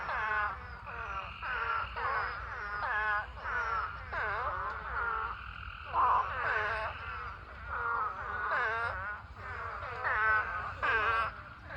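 Repeated warbling, moaning calls of male spadefoot toads rise and fall in a continuous chorus at a pond, several croaking over one another close by, with low background hum.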